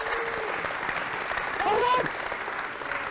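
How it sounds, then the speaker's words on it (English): Audience applause at an astronomy science event fills the space with steady, moderately loud clapping throughout, while someone speaks briefly over it. "Round of applause."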